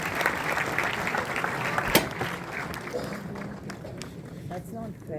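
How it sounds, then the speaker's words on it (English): An audience at a session with Manoj Bajpayee breaks into a round of applause, a steady wash of clapping from a crowd that carries on throughout with some voices mixed in. "With a big round of applause."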